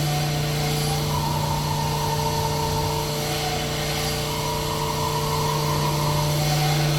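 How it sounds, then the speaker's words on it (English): A Gleason M2 sub-arc crank welder runs in an engine machine shop, giving a loud, steady mechanical drone with a constant hum that stays even throughout, with no speech. "Sub-arc crank welder. It's a Gleason M2."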